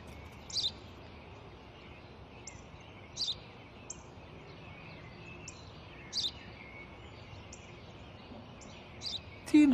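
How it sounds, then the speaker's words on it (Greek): A sparrow gives short, sharp chirps at intervals, fairly near but faint, over a quiet background hiss with a brief bump of sound at the very end. "Τόσες φορές σου είπα, είναι ένα σπουργίτι."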